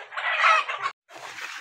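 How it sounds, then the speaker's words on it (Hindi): A brooding Sonali hen gives two close, bright bursts of clucking separated by a brief pause. "ये जो हमारी मुर्गी बैठी हुई है"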